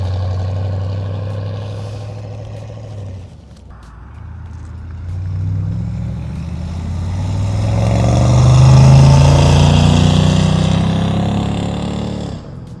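A 1977 Chevrolet Corvette with a 350 V8 crate engine drives by outdoors, its steady engine rumble fading, then swelling louder as it approaches and passes, before dropping away.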